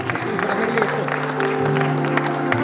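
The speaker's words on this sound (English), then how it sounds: "Parents keep on clapping" Parents clap at a school prize distribution ceremony, a continuous dull wash of applause under a droning, tonal background with a few voices.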